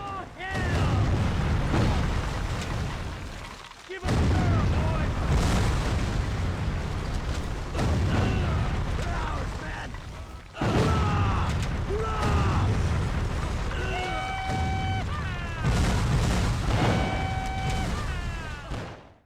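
Black powder gunfire in a Civil War video game, several deep booming volleys separated by short gaps, with mechanical clanks, creaks and ringing high tones between shots, loud and close.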